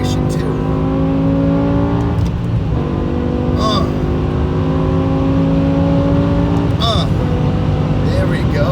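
A BMW E60 M5 pulls hard in sixth gear on a San Diego freeway, its engine drone heard from inside the car, steady and loud with rising harmonic tones and road rumble throughout.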